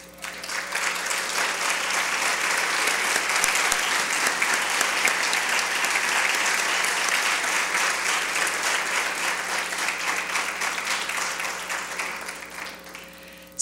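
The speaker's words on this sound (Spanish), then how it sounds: "pedimos a todos los descendientes de don Pepe y de doña Henrietta a ponerse en pie y darle un caluroso aplauso" Warm, sustained applause from a standing ceremony audience honoring the descendants of don Pepe and doña Henrietta during a 2016 visit by Henrietta Boggs, a dense even wash of clapping that holds steady for about thirteen seconds before tapering.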